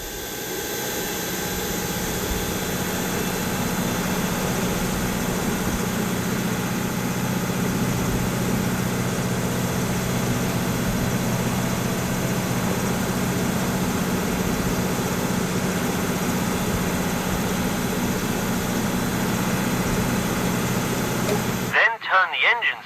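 An aircraft auxiliary power unit in the AirportSim ground-handling game runs at a steady, droning hum with a low rumble, holding constant before cutting off abruptly near the end.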